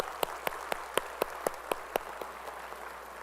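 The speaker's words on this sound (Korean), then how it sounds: "찬양 받으실 주님께 영광의 박수 올려드리겠습니다" Congregation at a Sunday church service claps in unison, sharp evenly spaced beats roughly four per second, steady and moderately loud over a faint room hum, then the claps soften toward the end.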